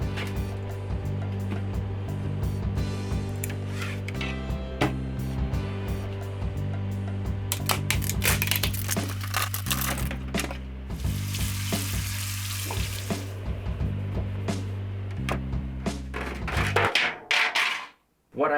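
A Bambu Lab X1C 3D printer printing ASA chassis parts for an RC car gives steady mechanical hum and whir with repeated motor tones, shifting clicks and rattles, and brief clatter near the end.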